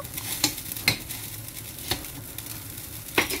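A potato and eggplant dish is stirred in a pan with oyster sauce and light soy sauce, giving a steady close sizzle broken by a few sharp utensil scrapes against the pan.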